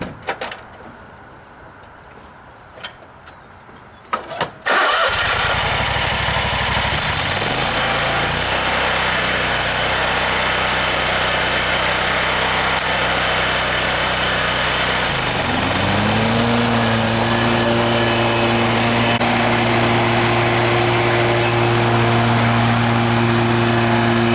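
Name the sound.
60 inch stand-on lawn mower, 31 horsepower, running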